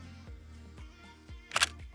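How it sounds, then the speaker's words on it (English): Several soft mechanical ticks lead into a crisp, bright camera shutter snap near the end of this short sound effect, heard alone and close. "so I want to add the camera shutter 7 as well."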